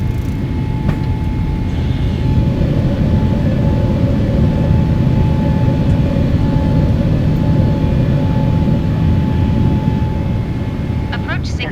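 A Boeing 777-300ER jet roars steadily and loudly during its takeoff roll and climb out of Singapore in cloudy weather, a dense continuous engine rumble heard from inside, with a voice speaking over it.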